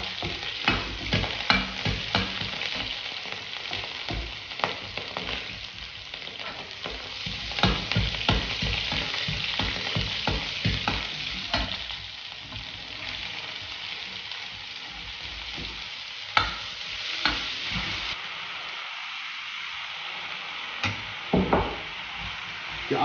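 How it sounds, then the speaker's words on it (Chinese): Vegetables stir-fried in fresh flaxseed oil in a rural Gansu kitchen: a steady sizzle with repeated scraping and clattering strokes of a spatula against the wok, fairly close, with no talking. "起锅倒入新鲜的胡麻油，我们先炒菜"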